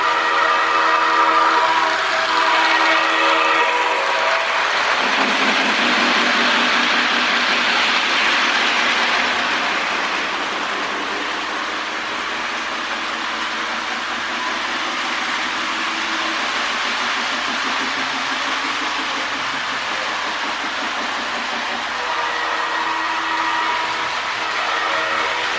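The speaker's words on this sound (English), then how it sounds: "Put a rail sounds or train sounds tender up, hooked up to them, and now you got great running locomotive with great sound." A Lionel model train sound tender plays recorded locomotive effects, with a whistle blast opening, then steady rolling and chuffing rail noise, and a further whistle near the end, loud and close.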